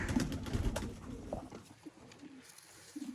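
Golden pigeons cooing in a loft among breeder pairs, soft low coos coming and going at moderate distance under a busy, noisy background.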